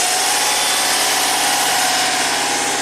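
Subaru engine running roughly with the alternator connected, a loud, dense, continuous mechanical drone with an uneven pulsing rumble, close up and with no talking.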